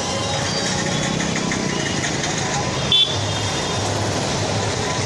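Road traffic between MGM Hospital and Seven Hills Flyover in Aurangabad, with car engines idling and revving in a steady mid-level drone, a short horn toot near the middle, and a voice talking over it.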